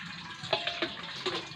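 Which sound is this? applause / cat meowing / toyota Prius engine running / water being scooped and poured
water being scooped and poured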